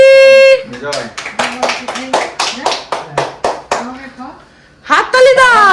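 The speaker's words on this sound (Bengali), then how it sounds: "হাততালি দাও সবাই" A group at a family midnight birthday celebration claps hands in a quick, near run of sharp claps after singing, with voices and a child's speech heard around and over the clapping.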